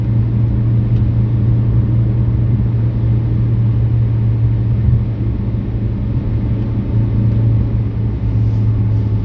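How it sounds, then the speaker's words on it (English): A steady low droning hum from a noisy wheel bearing on the Noddy car, heard from inside as it drives along a motorway, loud and continuous under road rumble, with no talking. "That's a wheel bearing, that, in it, or something."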